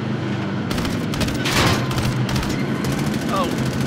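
Rapid bursts of automatic gunfire from Call of Duty Modern Warfare multiplayer, loud and dense, with repeated shots stacking through the whole stretch alongside game effects and talk in the background.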